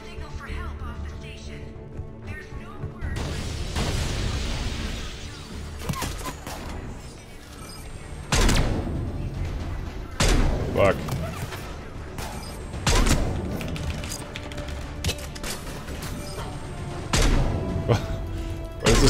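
Gunfire in Mass Effect 3 during a Citadel attack, sharp shots and bursts cracking out at irregular intervals over a steady game backdrop, with someone talking over much of it.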